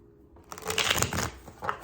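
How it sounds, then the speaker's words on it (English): Nightmare Before Christmas tarot deck being shuffled by hand, a close burst of riffling card flutter and soft slaps lasting over a second after a quiet start. "I'm gonna get a couple more shuffles"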